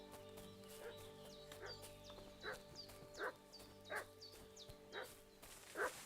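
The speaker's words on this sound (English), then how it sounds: "而家下邊啊有啲狗吠聲啊！" Dog barking repeatedly in the medieval village of Kingdom Come: Deliverance II, a string of sharp barks at a moderate distance over a steady ambient bed with background music, growing slightly louder toward the end.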